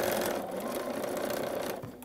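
A sewing machine runs steadily, stitching quilt rows together with a 1/4-inch seam, the close, even whir continuing for about two seconds before tapering off at the end.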